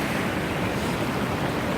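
Sea waves washing in over rocks and sand at Westcombe Bay in the South Hams at dusk, heard as a continuous close roar of surf with a steady wash and faint wind, with no talking.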